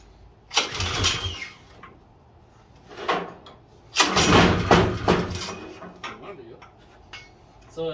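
An LCT Storm Force 179cc engine on a longtail mud motor turns over in several loud, close bursts of rough cranking and brief firing, separated by short quiet pauses.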